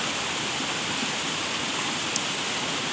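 A waterfall near Cēsis, Latvia, spills over rocks in a steady, dense rush of white-noise roar that holds even and unbroken throughout, with no voices.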